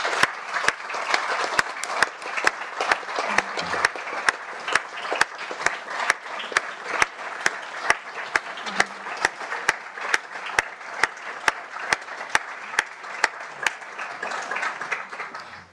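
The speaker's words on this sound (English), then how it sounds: "I bet we give everyone up on stage a huge round of applause" A large audience at a regional trauma symposium gives everyone on stage sustained, loud applause, with dense clapping and sharp individual claps cutting through for the whole stretch.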